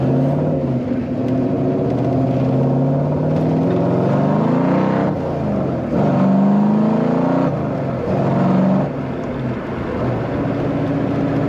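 A 1933 Ford Roadster Factory Five replica with later-model V8 power and a 5-speed manual, engine droning steadily while driving, with rising and falling revs through gear changes and a brief louder surge midway.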